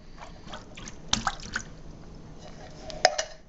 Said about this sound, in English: Now we'll grab another can, pour it in, and keep doing this till we have 10 cans in there.